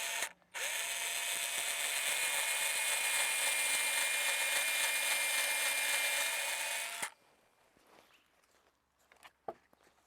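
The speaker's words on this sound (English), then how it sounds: "You use an 1/8 inch drill bit" A power drill with a 1/8 inch bit drills a pilot hole in a privacy fence board, running as a steady, loud whine for about six seconds before cutting off, followed by faint handling noises.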